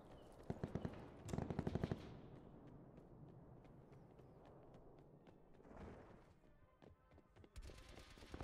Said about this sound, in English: Am I getting shot at in my spawn?